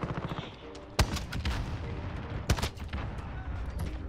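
Two heavy, booming shots from the Rytec AMR sniper rifle, a .50 cal with explosive rounds in Modern Warfare, about a second and a half apart, over steady background game noise and some speech.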